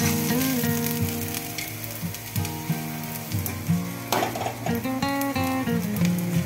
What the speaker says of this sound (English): Now I am mixing Ivygourd slices.